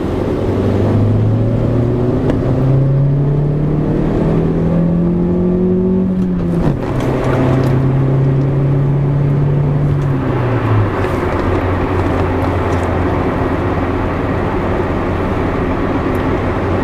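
A Hyundai Getz with a 12-valve engine running on LPG revs hard, its engine note climbing in pitch, dropping back, then rising and holding. It stays loud and close throughout with no talking.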